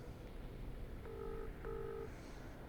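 Two short, faint telephone keypad tones sound in quick succession, the number being dialed on a phone buried under steady background noise.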